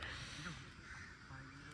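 A crow caws a few times in a park in Lucknow, moderately close against quiet outdoor background, with faint voices nearby.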